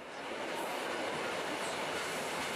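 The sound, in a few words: train coming out of a tunnel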